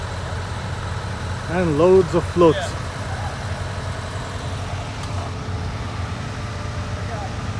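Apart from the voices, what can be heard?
trucks idling, lined up for a parade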